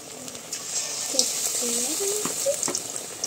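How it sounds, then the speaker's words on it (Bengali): Pumpkin flower fritters being deep fried in plenty of oil, with a continuous moderate sizzle and bubbling heard close by, mixed with faint voices and small kitchen clatter. "বেশি করে তেল দিয়ে নিছি, একেবারে ডুবো তেলে ভাজতে হবে"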